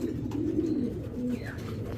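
Racing pigeons coo close by in a series of low, throaty calls over a steady background hum, with no talking.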